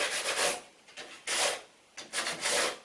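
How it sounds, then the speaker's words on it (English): Hand sanding along the inside edge of a wooden door architrave with 180 grit paper: repeated close, dry rasping strokes in short bursts with brief pauses between them, no voices. "I'm just going to rub down this inside edge of the architrave here and just using a piece of 180 grit paper"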